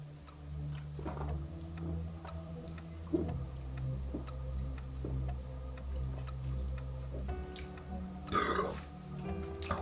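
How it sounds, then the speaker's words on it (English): A man belches several times after a gulp of fizzy cola. The burps are close and low, and quieter rumbles and faint ticking fill the gaps between them. No one speaks. "Instant reaction is to belch."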